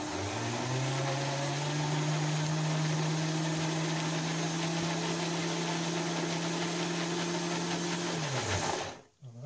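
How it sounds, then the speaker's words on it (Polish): A blender grinds chickpea hummus in a loud, steady motor whir with a strained drone that holds for about eight seconds, then winds down and stops. "Trzeba poruszyć i dać mu się dobrze teraz zblendować."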